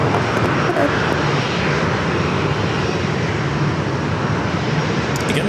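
An airliner departing San Diego for Las Vegas roars loudly and continuously, a dense, even jet engine wash close by with no pauses.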